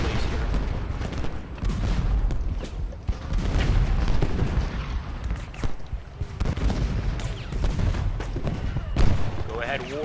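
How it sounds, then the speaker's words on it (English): Musket volleys from Civil War infantry in the Ultimate General Gettysburg battle game, a crackling stream of rolling gunfire and dull booms that keeps swelling and fading, heard under a voice commentating. "we fired an entire volley and not a single one of his men dropped"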